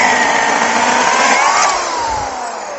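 Engine-driven saw running steadily while cutting firewood outdoors in the countryside, a loud buzzing whine that dips slightly in pitch midway as the blade bites, then eases lower toward the end.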